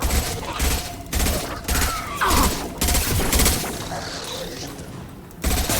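Video game gunfire in bursts, loud rapid automatic fire starting and stopping repeatedly, with explosions and chaotic battle noise in between.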